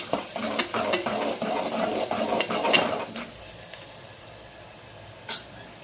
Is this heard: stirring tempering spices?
yes